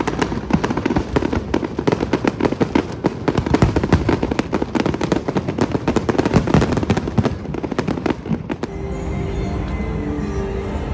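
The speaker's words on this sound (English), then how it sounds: "an hour later, I watched the fireworks and water show." Dense, continuous crackling and booming of fireworks at a fireworks and water show in Singapore, many rapid bursts overlapping loudly, then fading into a steadier ambient rumble near the end.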